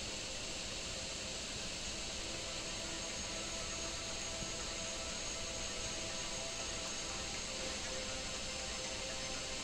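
A powerful rocket engine firing during a slow, controlled landing in a space video game, a constant, dense roaring rumble holding at the same level for the whole stretch, with no talking.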